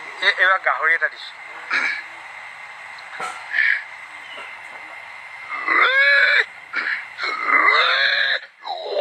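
A voice imitates a pig in an Assamese comedy routine, grunting and squealing oinks in uneven bursts, close and loud, mixed with his vocal noises.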